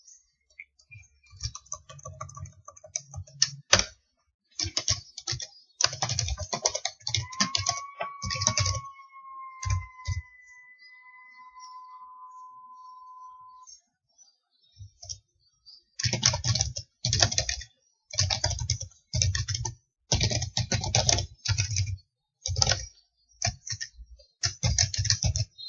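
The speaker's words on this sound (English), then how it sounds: "now I'm going to type some text there" Fingers typing on a computer keyboard while writing HTML, with rapid clusters of close key clicks separated by short pauses and a quiet gap in the middle before brisk typing resumes; a faint whistling tone sounds briefly early on.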